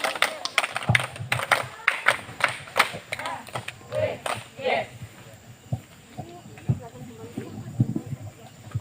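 Group clapping at a Qur'anic camp ceremony: a patterned rhythmic clap by a school crowd, sharp and fairly close for a few seconds, then scattered claps amid voices and outdoor bustle.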